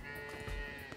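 A cow in the farming game Coral Island lets out one short, close moo while being milked, alone and fairly quiet.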